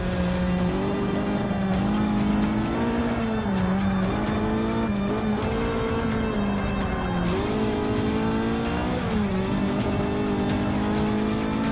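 A race car in Forza Motorsport 6 roars steadily with engine pitch rising and dipping through gear changes and braking, tires squealing at times, loud and continuous throughout.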